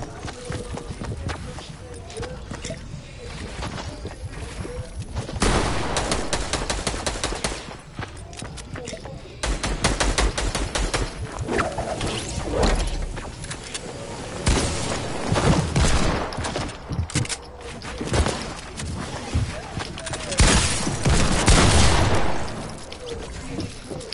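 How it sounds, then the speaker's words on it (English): Rapid automatic gunfire from a drum gun in a shooting video game, long dense bursts that are loud and close, with shorter volleys in between and some game noise underneath. "Yo, bro, why are you shooting me?"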